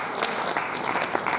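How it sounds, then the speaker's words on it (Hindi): Audience at a Hindi kavi sammelan poetry gathering breaks into steady, dense clapping that holds at an even level throughout the short stretch, with no voices above it. "जोरदार तालियां बजाएं।"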